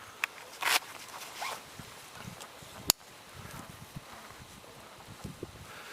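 Scissors cut across a shirt to make small squares of charcloth: one short rasping burst of fabric being cut, then a single sharp click, with quiet rustling in between.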